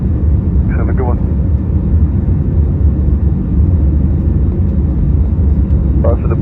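Steady, loud jet roar from a Delta Airbus A321neo taking off from Boston, a dense continuous rumble heard from inside the plane, with faint brief chirps near the start and end.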